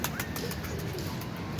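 A pigeon caught in a net and sitting in a corner of it gives soft cooing calls that rise faintly over a steady noisy background.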